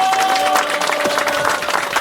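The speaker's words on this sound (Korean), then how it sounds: "큰 박수 부탁드립니다." A crowd applauding at a commemoration ceremony, brisk clapping from many hands for about two seconds, with a steady ringing tone running underneath.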